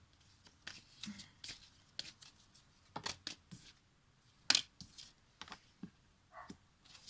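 A deck of oracle cards is shuffled by hand, close and quiet. Soft riffles and slaps come in irregular bursts, with brief pauses between them.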